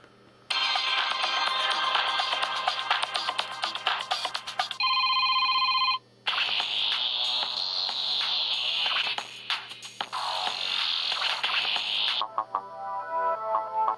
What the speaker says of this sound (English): Standard ringtone for an Android phone.